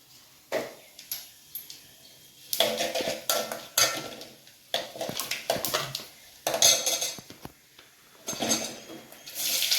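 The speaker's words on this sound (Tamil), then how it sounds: "இப்போ நம்ம தாளிக்க ஆரம்பிச்சிடலாம்." Metal utensils clatter and scrape against a pan in irregular bursts as spices temper in hot oil and ghee, with clinks and stirring knocks, fairly close, no talking.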